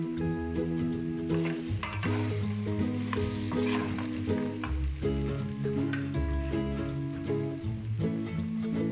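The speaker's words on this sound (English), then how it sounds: "In goes the potato, and we will stir fry it for a couple of minutes." Potato stir-fried in a pan for curry aloo, a loud continuous sizzle and crackle with repeated stirring scrapes, close up and without talk.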